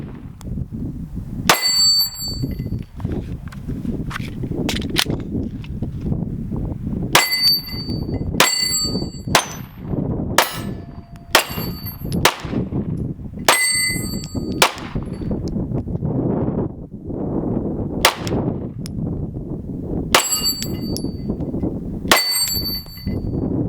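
Pistol shots ring out on steel targets in a series of sharp cracks with metallic clangs, irregularly spaced over steady outdoor background noise.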